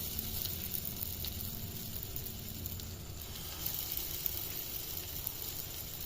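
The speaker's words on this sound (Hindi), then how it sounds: "तवे पे हमने तेल गरम कर लिया है। तो अब जो है हम क्या करेंगे, जो कबाब हमने बनाया है वो उसमें डालते जाएंगे" Potato kebabs frying in hot oil on a flat griddle, a steady soft sizzle with a faint crackle that holds evenly throughout, close and quiet with no voices.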